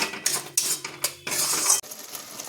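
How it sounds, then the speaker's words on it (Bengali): Chicken masala with tomato paste stirred in a pan, a series of sharp metallic clanks and scrapes of a spoon against the pan, close and loud, with a longer hissing scrape midway. "এই টমেটোটা এবার দিয়ে দিলাম, পেস্ট করা টমেটোটা দিয়ে এবার এটাকে ভালো করে কষবো"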